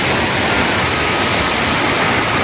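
Swollen mountain stream after heavy rain, its diverted water rushing over a washed-out road, a steady loud broadband roar with no breaks, close and alone.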